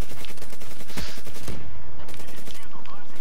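Peacekeeper MK2 rifle firing in Call of Duty Black Ops 3, a rapid rhythmic stream of loud shots that runs the whole time over dense game noise.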